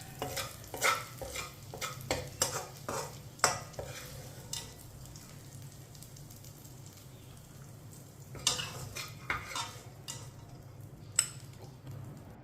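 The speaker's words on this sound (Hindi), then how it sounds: "एक प्याली कलर वाली सेवियां डाल लेंगे, मिक्स कर लेंगे" Colored sweet vermicelli is stirred in a pan with a spoon over low heat, producing quiet scraping strokes and light metallic clinks in irregular bursts, with faint frying and no voices.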